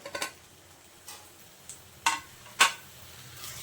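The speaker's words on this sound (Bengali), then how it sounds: "এখন আমি কেটে রাখা ঝিঙেগুলো দিয়ে দিচ্ছি।" Chopped ridge gourd is added to mung dal frying in oil, giving a soft sizzle with a few sharp ticks and scrapes of stirring close by.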